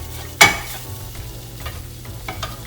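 A spoon scrapes once against a saucepan while cream cheese sauce is stirred, followed by soft scraping and a faint low sizzle, close and quiet with no voices.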